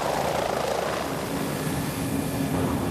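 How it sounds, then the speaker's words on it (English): A helicopter flies overhead above Arctic shipping lanes, a dense continuous rotor and engine roar that stays loud and steady for a few seconds without speech. "Ships running the lanes early or late in the 6-month season are often supported by helicopters"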